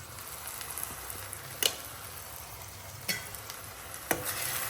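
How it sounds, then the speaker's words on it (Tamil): Chilli and coriander powders are stirred into drumstick thokku in a pan, a soft steady sizzle broken by a few sharp scrapes of the spoon against the pan, quiet and close with no talking. "மூணையும் போட்டு கிளறி கொடுத்துடலாம்"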